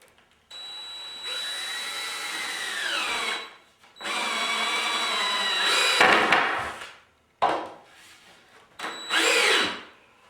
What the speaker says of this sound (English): We're going to put a couple 2-inch deck screws in here.